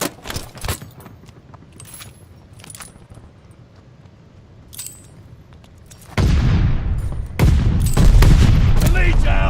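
Gunfire and grenade blasts ring out in a multiplayer shooter game, with sharp scattered shots early on and then a loud sustained barrage of explosions and rapid fire toward the end.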